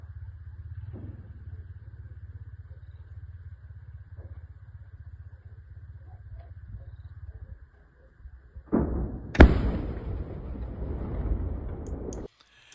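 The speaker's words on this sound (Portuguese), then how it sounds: "foi uma explosão muito grande, muito longe" A large explosion at a Russian ammunition depot in Khartsyzk, heard from far away: a low steady hum gives way to a sudden loud blast followed by a long, heavy rolling rumble.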